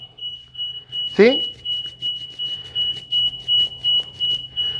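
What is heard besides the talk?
alarm beeping in a kitchen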